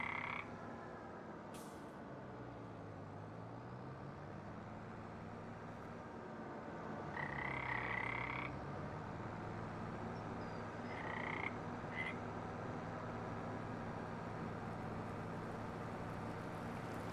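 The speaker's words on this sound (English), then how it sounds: "I forgot about the frogs. I love the frog noises." Frogs croak in a pond area of the Farming Simulator 25 video game, a steady chorus of repeated low croaks over a constant ambient bed, with a few brighter calls rising midway.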